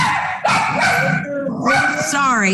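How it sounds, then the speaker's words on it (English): A dog barks and yips nearby, a few sharp calls breaking in during a meeting-room interview, heard over and between ongoing speech. "Sorry, my dog."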